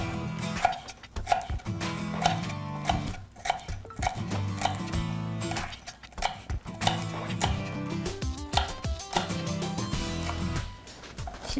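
Knife chopping celery into thin strips on a board, a steady run of crisp rhythmic taps with light clinks of dishes, no talking.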